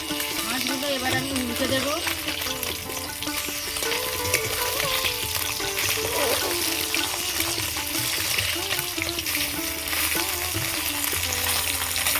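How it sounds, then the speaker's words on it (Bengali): Small puti fish sizzle hard in hot oil in a kadai over a lit stove, crackling and bubbling without a break while a spatula stirs and scrapes in the pan, with a thin tonal hum running under the frying. "তেল গরম হয়ে গেছে মাছগুলো ভেজে নেব"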